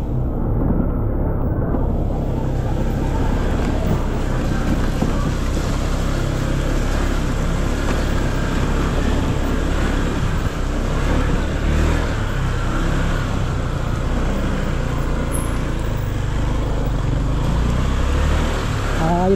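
Car driving at night on a rough, wavy road, a constant loud low rumble of engine and tyres inside the cabin throughout, with no clear breaks.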